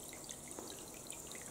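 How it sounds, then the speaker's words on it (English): Water from a submersible pump trickling down through wood shavings inside a homemade evaporative swamp cooler, a faint, steady patter of drips and dribbles. "The submersible pump sucks up water to the top, and then it all dribbles down through the wood shavings"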